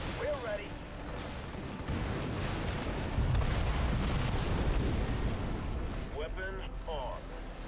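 Heavy cannon fire and explosions rumble continuously through a Halo Wars battle, with dense booming blasts building in loudness midway and brief in-game voice lines near the end.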